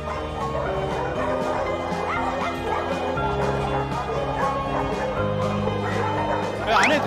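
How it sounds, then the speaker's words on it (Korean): Many rescued dogs, some taken from a dogfighting site, bark, yip and whimper close by in an indoor shelter, a dense overlapping chorus with a person talking over it. "강아지들이 많다 보니 치료가 시급한 아이들도 많습니다"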